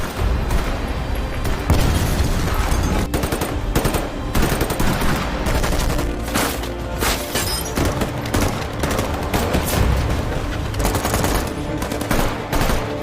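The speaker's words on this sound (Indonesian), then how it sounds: "terjadilah baku tembak yang sangat seru" Gunfire in a movie shootout between SWAT troops and robbers: dense, loud bursts of machine-gun fire and rapid shots, with occasional heavier booms, continuing steadily throughout.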